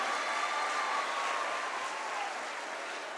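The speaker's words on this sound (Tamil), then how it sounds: "இந்த அவருக்கு ஒரு கைத்தட்டு கொடுங்க." A large student audience at a motivational speech applauds a guest, producing a dense, steady wash of clapping that stays loud throughout with no talking over it.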